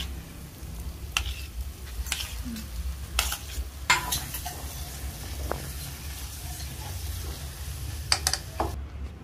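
A steady sizzle of mashed potato and cauliflower frying in ghee in a pan for pav bhaji, with a spoon or spatula scraping and stirring now and then.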